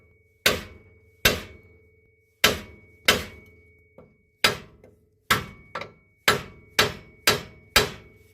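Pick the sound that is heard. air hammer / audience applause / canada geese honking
air hammer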